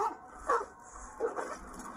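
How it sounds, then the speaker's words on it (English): Dogs barking and yipping in short bursts, two or three sharp barks spaced apart at moderate distance, fairly faint with some whimpering quality amid background noise. "I can tell by the sound of their bark that they are ready to attack"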